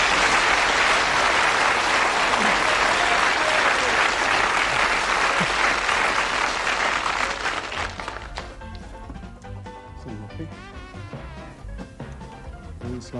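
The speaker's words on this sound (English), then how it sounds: "The audience are going to give you a lovely warm round of applause" Studio audience applause on a 1981 darts game show, a loud dense burst of clapping that fades to scattered claps after about eight seconds.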